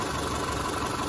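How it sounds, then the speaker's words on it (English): A 1999 Subaru Forester's EJ25 boxer engine with a mysterious fault noise, idling in a steady, close, continuous drone for a brief moment. "a sound that I'm hearing on the engine"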